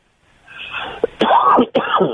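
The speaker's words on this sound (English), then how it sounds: "I have allergies, so it makes me cough." A faint breath leads into a few harsh, throaty coughs, close to the microphone and fairly loud, ending in a short final cough.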